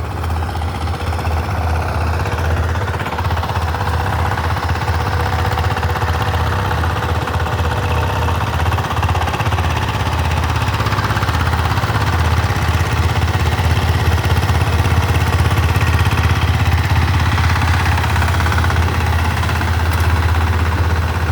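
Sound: power tiller engine running in a flooded field

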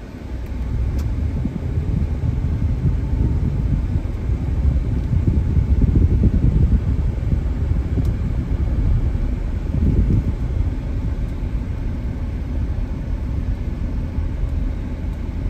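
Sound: 2015 GMC Yukon XL Denali driving on test drive

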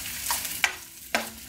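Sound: sausages and onion frying in a pan

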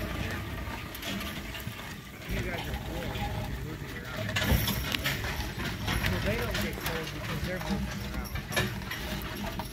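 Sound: horse hooves clip-clopping pulling a sleigh

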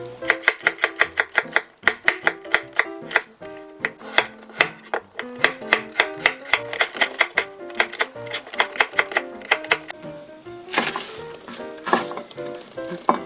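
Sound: knife chopping scallions (green onion) on a board

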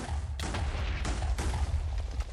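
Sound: gunfire in video game Minecraft, HBM's nuclear tech mod

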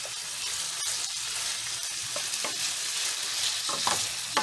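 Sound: stirring beef browning in olive oil in a pan

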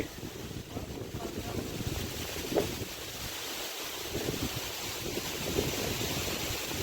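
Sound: strong wind storm in the fields

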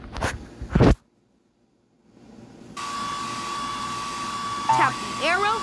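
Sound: hair dryer blowing in a video game

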